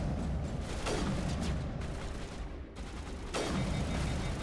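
Turret gunfire in the Mass Effect Legendary Edition video game, dense rapid bursts of shots with a rumbling wash, pausing briefly then resuming loud and close.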